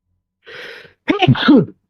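A single close sneeze: a sharp breathy intake followed by a voiced burst.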